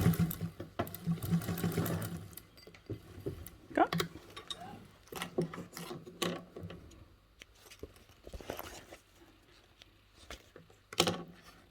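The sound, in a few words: sewing machine top stitching a seam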